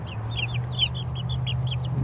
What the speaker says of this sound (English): There's a semi-calm, silky chicken.